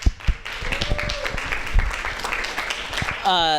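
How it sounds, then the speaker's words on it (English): Audience at a university debate forum on Greek life claps throughout, a steady patter of many hands heard over room noise, with a voice speaking near the end. "Give yourselves a round of applause for that."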